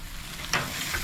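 Chicken wings sizzle steadily on a charring grill, with a brief louder hiss burst midway as they are flipped, close and alone without talk.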